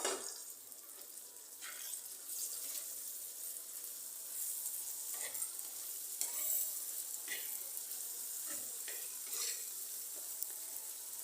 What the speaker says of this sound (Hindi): और अच्छी तरह इसकी भुनाई करेंगे।